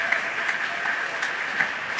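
Church congregation applauding during worship, a continuous even wash of clapping with a few sharper individual claps standing out, moderately distant.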